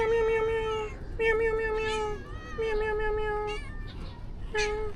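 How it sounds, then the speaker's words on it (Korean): A cat meows loudly and insistently, several drawn-out cries in a row with brief pauses between them, close and clear. "고양이가 자꾸 나오려고 하는데"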